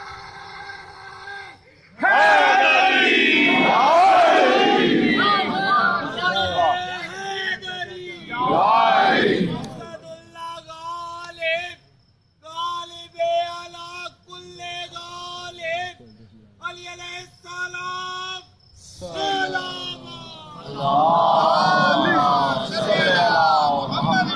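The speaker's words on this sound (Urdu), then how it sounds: "وہ مل کے دونوں ہاتھ بلند کر کے پوری طاقت سے نعرے کا جواب دے گا" A Muharram majlis crowd shouts back in response to a slogan, many voices raised together in loud, sustained bellows. Shorter chanted calls and pauses follow, then another full-throated roar at the end.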